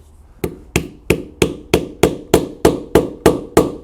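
A leather rivet is set with a setter on an anvil: a run of about eleven sharp, evenly spaced hammer strikes, loud and close, each ringing briefly before the next, with no voices.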